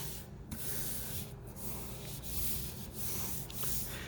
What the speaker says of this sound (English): I know the rubbing part is so boring